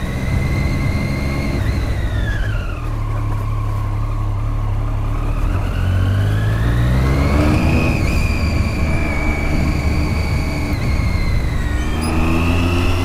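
Triumph Daytona 675R track-ready motorcycle pulling in second gear, its loud engine note sagging, then climbing, dipping again and rising, with continuous roar and no voices.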